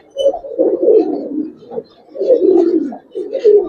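Giribaz pigeons of the Palla line coo in a loft, several close, loud rolling phrases in bursts with short pauses between them.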